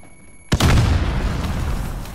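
A grenade goes off in a Call of Duty: Modern Warfare multiplayer match, one sudden loud close blast followed by a long rumbling decay, with no talk.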